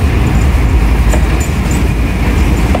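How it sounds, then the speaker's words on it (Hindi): The Sukkur Express rumbles steadily into Rohri station, a loud continuous low rolling drone of rail wheels with faint squeaks and clicks on top, with no talking. "ये सखर एक्सप्रेस रोड़ी स्टेशन पे पहुँच गई है"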